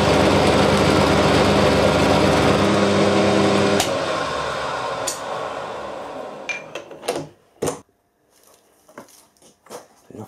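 A milling machine cuts metal with a loud, steady grinding whir for about four seconds, then winds down to near quiet broken by a few sharp clicks and knocks.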